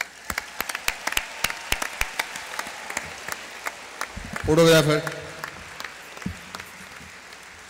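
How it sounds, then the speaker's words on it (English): At a live concert, an audience claps for a woman coming on stage, sharp repeated hand claps ringing out across the hall, while a voice briefly speaks and a tonal burst cuts in midway. "Let's give her a big applause, please."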